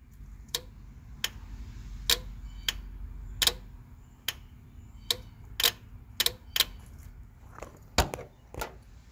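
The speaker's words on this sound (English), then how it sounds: "you should be able to hear the relay click on and off as I unplug the fan switch" A car's cooling fan relay clicks on and off in a quick run of sharp, close ticks, a dozen or so spaced unevenly over a low steady hum, with no talk.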